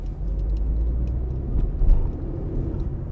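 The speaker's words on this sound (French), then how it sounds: "Ok, on va faire une petite accélération." A car engine in town, running around 2000 rpm, picks up revs in a short acceleration: a steady low rumble swelling slightly mid-way, heard from inside the vehicle with no talking.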